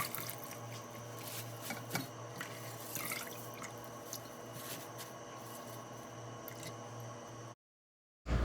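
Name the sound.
washing salad greens under running tap water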